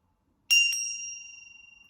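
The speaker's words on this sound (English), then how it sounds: "we got a little bell for you." A small bell rings twice in quick succession during a tarot reading, its bright metallic tone sustaining and slowly fading with a slight shimmer in a quiet room.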